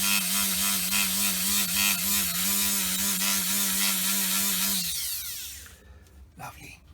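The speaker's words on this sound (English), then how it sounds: "So this just needs a bit of cleaning. That's what I have my trimmer for." A handheld power trimmer (rotary tool) runs steadily while cleaning a Holley List 1850 carburetor with a milled choke, its whining harmonics holding for about five seconds before it spins down and stops, followed by faint handling noises.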